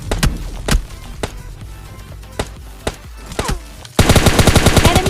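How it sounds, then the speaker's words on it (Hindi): Video game gunfire during a solo versus squad battle royale match, scattered single shots and distant cracks followed by a sustained rapid automatic burst near the end, loud and close. "अब आपको यहाँ फायर के साउंड आ रहे होंगे।"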